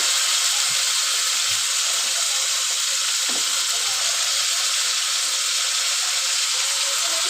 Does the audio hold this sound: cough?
no